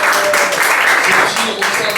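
A church congregation applauds together, a dense continuous patter of clapping that fills the space, with voices mixed in and a few brief dips in the loudness.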